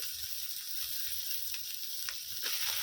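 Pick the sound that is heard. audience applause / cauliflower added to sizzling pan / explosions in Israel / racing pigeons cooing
cauliflower added to sizzling pan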